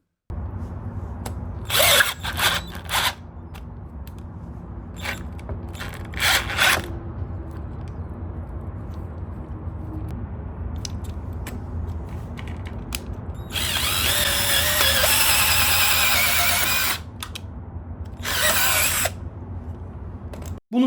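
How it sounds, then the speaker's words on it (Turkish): An SGS Plus 20V cordless impact drill (SGS5245) with a 10 mm chuck bores into wood in high-speed first gear. Several short whirring bursts are followed by a longer sustained run and a final burst, all close and loud. "Sonuncu testimize geldiğimizde de onluk bir mandren kullanarak ahşaba delik açmayı denedim."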